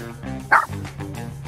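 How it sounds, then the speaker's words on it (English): A dog gives a single sharp bark amid a busy street scene in Naples, heard close over low background murmur. "One issue that we have though, again, is those damn dogs, okay?"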